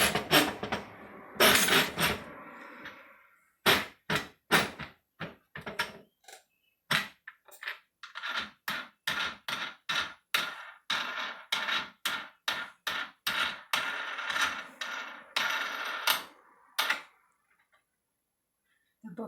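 A homemade book press is tapped with a tool to work it down, giving a long run of sharp, close knocks. They come in uneven clusters at first, then in a quicker steady rhythm, before stopping into silence.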